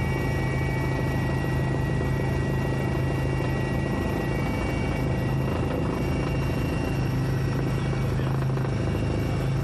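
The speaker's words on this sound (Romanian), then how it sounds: "Traficul este supravegheat inclusiv din elicopter." A helicopter flies over motorway traffic, a steady low rotor drone and rumble sustained throughout at moderate level, with no speech.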